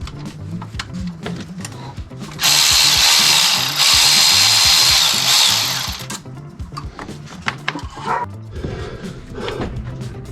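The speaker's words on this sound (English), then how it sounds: "I just removed the bolts from the up pipe" A power tool runs in one sustained burst of about three and a half seconds, removing the bolts from the up pipe on an LB7 Duramax diesel engine during cylinder head removal, with quieter clanking of tools and handling before and after.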